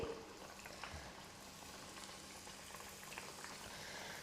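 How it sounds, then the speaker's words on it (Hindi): A homemade breakfast snack fries in hot oil in a pan, giving a faint, steady bubbling sizzle that carries on evenly. "जब तेल गर्म हो जाएगा तो अपने तैयार नाश्ते को इस तरह से डालेंगे।"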